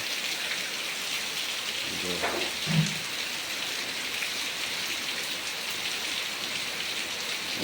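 A steady downpour of heavy rain hisses loudly and evenly, with a brief murmur of a voice partway through.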